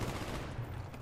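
Rapid gunfire in the shooter game Call of Duty: Black Ops on PC, a dense continuous burst of shots filling the whole short moment at moderate level.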